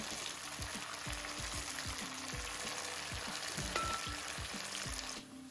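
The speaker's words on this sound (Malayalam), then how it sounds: "അതിനുശേഷം വീണ്ടും ഒന്ന് നന്നായി ഇളക്കി കൊടുക്കുക" Mango pickle cooks in a pan with curry leaves, a continuous oily sizzle broken by regular scraping stirs of a spoon, close and fairly quiet.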